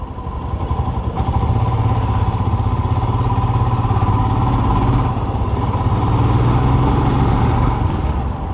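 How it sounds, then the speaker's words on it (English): A Royal Enfield Scram 411 motorcycle on the road runs with a loud, steady engine thrum and rushing wind as the rider overtakes a large trailer, the engine swelling briefly under acceleration. "So let me overtake this big gigantic trailer"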